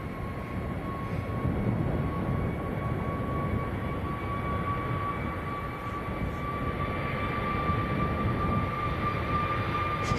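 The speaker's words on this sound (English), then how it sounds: "EasyJet on the roll." An EasyJet airliner rolls for takeoff at Manchester Airport, a steady broad jet-engine roar holding at constant strength throughout, with a faint thin tonal whine riding on top and no voices.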